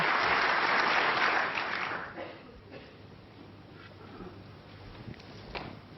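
Snooker crowd applauding a safety shot at a World Championship final, loud at first and then tapering into scattered claps and quiet murmur.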